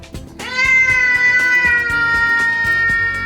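A loud, drawn-out Bengal cat meow close by, sustained and insistent, over faint background tapping.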